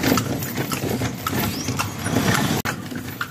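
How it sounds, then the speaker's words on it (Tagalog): A horse pulling a calesa in Iligan City clip-clops along with a steady run of hoof beats, moderately close, over street and engine noise, with no talk. "Alaga-alaga na yung kabayo, diba?"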